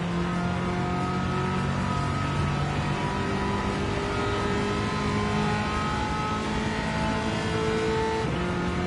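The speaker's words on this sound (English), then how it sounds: "Engine sounds so nice." Race car engine from Gran Turismo 7 in a Le Mans road car challenge, a steady droning tone held near constant pitch and loud throughout, with faint rises and shifts as the car runs without anyone talking.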